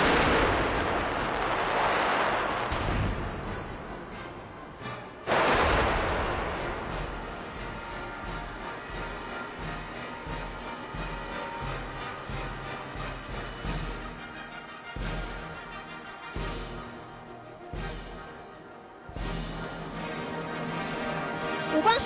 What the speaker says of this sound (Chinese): 赶紧带您感受一下现场璀璨耀眼又美丽的烟火